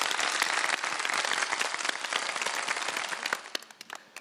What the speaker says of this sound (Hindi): तालियां बजा दें मुस्कान के लिए,